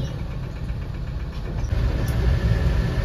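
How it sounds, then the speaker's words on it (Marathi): Road traffic in heavy rain, a steady low rumble of car engines close by with a wet wash of noise that grows slightly louder toward the end, no voices. "बघा पाऊस बघा, ट्रॅफिक बघा मित्रांनो, ट्रॅफिक."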